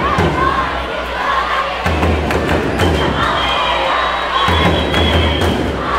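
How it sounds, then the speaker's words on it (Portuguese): At a school games football final, a crowd chants in a steady, repeating rhythm, loud and continuous, with occasional thuds and shouts in the mix. "E a torcida do 11 pedindo gol"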